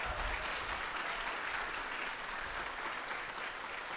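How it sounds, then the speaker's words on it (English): A tech conference audience gives a big round of applause for a young speaker named Sophie, a continuous broadband wash of many hands clapping at a steady level for the whole stretch, without talk. "let's give a really big round of applause for Sophie yet again"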